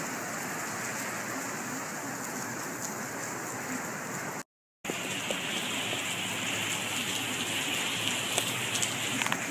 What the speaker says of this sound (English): This back there, it's all hail and all raining.